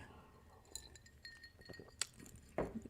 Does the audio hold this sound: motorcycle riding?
no